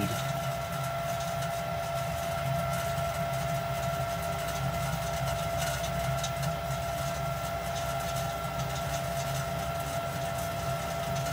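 Lennox SLP98UHV variable-capacity gas furnace with its draft inducer fan at full speed: a loud, steady mechanical hum with a constant tonal drone and airy rush, unbroken for about eleven seconds, close up.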